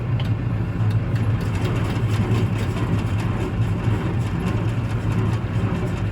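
A loud, steady low engine rumble running continuously throughout, a heavy diesel tractor engine idling close by with no pauses.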